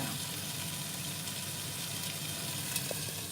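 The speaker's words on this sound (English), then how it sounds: "Oh, this is sizzling." Steady broadband sizzle of potatoes frying in a hot pan, continuous and close, with no voices.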